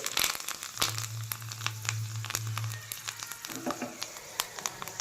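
Spices crackle and spit in hot ghee as a tadka with asafoetida fries for tomato rasam, sharp irregular pops over a steady sizzle with a low hum at first.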